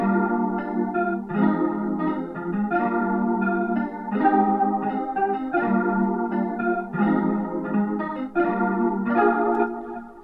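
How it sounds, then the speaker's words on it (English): Jazz guitar patch in Omnisphere plays chord-based licks, a steady run of warm plucked chord stabs and short melodic phrases at a moderate level with no voices. "I just took those same chords from the electric piano and I put them on a jazz guitar in Omnisphere."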